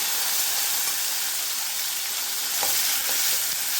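Garlic fries to brown in a pan as two tomatoes are added, giving a loud, close, steady hissing sizzle with a few faint utensil scrapes. No one speaks.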